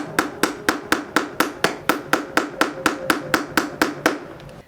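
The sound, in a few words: hammering nails in for window draft proofing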